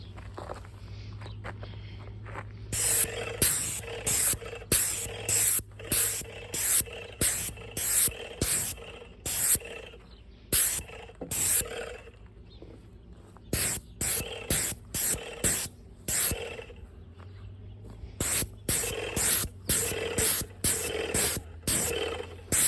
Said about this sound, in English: Okay, so this is the sprayer. And this is what I'm painting.